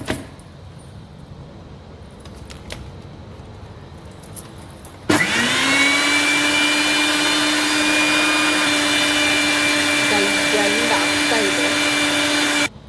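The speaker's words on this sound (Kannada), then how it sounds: "ಗ್ರೈಂಡ್ ಮಾಡಿಕೊಡ್ತಾ ಇದ್ದೇನೆ" An electric mixer grinder switches on abruptly to grind coconut for ash gourd sambar, then holds a loud, steady, high-pitched motor whine for about seven seconds before cutting off.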